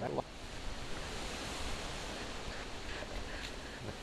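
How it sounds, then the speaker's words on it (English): Steady outdoor wind blowing across the microphone, a constant broadband rush that fills the whole stretch with little variation, close and fairly loud. "Luckily the wind's coming from where my back is, so it's all blowing away."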